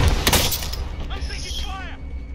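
Gunfire in Call of Duty's Plunder mode: a burst of loud, sharp cracks right at the start, fading into scattered fainter shots and mechanical clatter, with a voice speaking over it.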